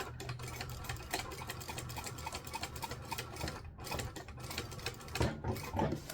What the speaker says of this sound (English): I'm going to come back here and stitch towards the zipper